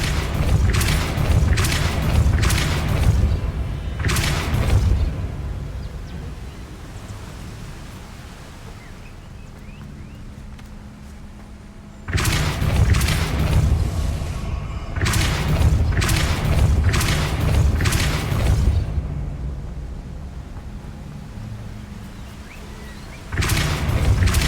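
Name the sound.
Depulso spell cast in Hogwarts Legacy video game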